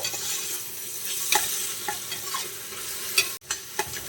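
Tomatoes sauté in a pan for mutton biryani, frying with a steady close sizzle while a utensil stirs and scrapes in irregular strokes.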